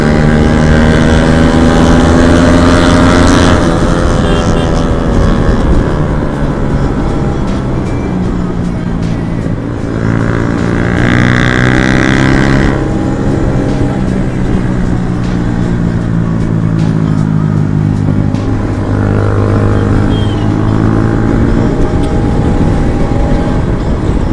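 A Kawasaki Z900 motorcycle on the road gives loud exhaust notes, its engine pitch climbing and falling through several rev sweeps and gear changes over a sustained, close roar.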